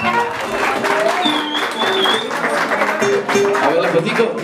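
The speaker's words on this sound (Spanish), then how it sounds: "el aplauso para el mariachi" Audience applause for a mariachi band at a quinceañera party, a continuous patter of clapping mixed with voices and some background tones.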